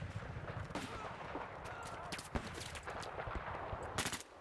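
Gunfire in Battlefield 4 on the Guilin Peaks conquest map: a faint, dense mix of distant rifle and machine-gun shots crackles continuously, with sharper bursts near the end and a low battle rumble underneath.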